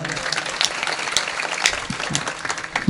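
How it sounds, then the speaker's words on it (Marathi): An audience at a comedy kirtan claps in a continuous, dense burst of applause that holds steady. A faint voice sounds beneath the clapping. "जोरदार टाळ्या वाजवा सगळे"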